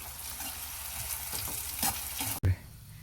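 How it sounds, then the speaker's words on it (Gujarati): Onion and tomato sizzle in a pan as they are stirred for patra dhokla, a steady close frying hiss with scraping stir strokes and a sharp knock near the end. "થોડીક આપણે હલાવીએ ત્યાં ડુંગળીને ટમેટું ચડી જાય"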